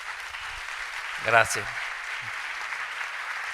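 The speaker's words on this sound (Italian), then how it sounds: "un altro grande applauso" Audience applause at a live event runs as a soft, steady patter in the background while a voice briefly speaks over it.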